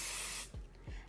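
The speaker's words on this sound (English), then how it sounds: "I use this bonding spray, and I'm going to spray a little of this on here so I can hoop it" A loud hiss of bonding spray aerosol onto fabric and stabilizer for machine embroidery lasts about half a second, then stops, followed by a couple of soft low thumps close by.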